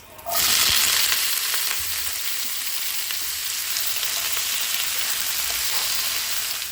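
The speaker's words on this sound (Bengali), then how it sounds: "আমার আলু ভাজা মোটামুটি হয়েই এসছে, আলু কুমড়ো ভাজা।" Potato and pumpkin pieces frying in a pan with cumin seeds, a loud continuous sizzle that starts abruptly and holds steady, with occasional crackles and stirring.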